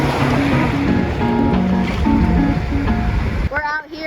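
Strong wind and ocean surf roar steadily at a Gulf of Mexico beach on a day with a strong current, loud and close, with voices heard over the rush of water.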